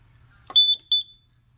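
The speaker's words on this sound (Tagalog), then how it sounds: "When it touches water, it will send the alarm." A water leak detector's alarm goes off as its two metal sensors touch water, giving two short, loud, high electronic beeps close by, preceded by a faint click.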